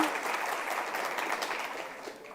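A live audience at a Pride Month book event breaks into a short burst of steady applause, fairly loud and close, tapering off toward the end.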